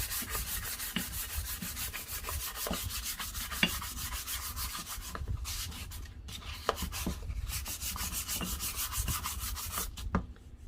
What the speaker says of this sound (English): So I'm just gonna sand it.